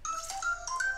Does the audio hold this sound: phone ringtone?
yes